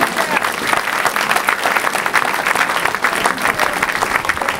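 A church congregation claps loudly and steadily in acclaim to God, a dense and continuous burst of applause from many hands, mixed with some crowd voices.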